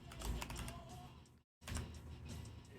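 Rapid clicking keystrokes on a computer keyboard, close and fairly quiet, tapping in quick irregular bursts with a brief silent gap partway through before the typing resumes.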